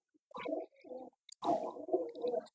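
Soft, throaty pigeon coos in short bursts, a pause, then a longer run of cooing, close by and quiet.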